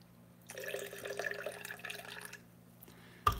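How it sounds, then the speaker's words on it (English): Water pours into a measuring container while mixing a homemade high-fat salad dressing, a steady splashing fill that runs for about two seconds and then stops, with a short knock near the end. "So you're just going to take it and fill it up to the next line with water."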